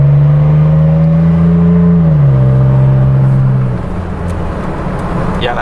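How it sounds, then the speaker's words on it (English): A lifted Toyota Tacoma pickup fitted with a pedal commander accelerates, its engine drone steady and loud before the pitch drops at a gear change and settles into a lower, quieter hum. "that's getting me some nice acceleration"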